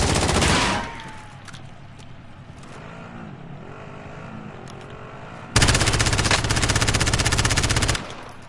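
Gunfire in the video game Call of Duty Warzone comes in two loud bursts of rapid automatic fire, a short one at the start and a longer sustained one later, with a low rumbling hum between them.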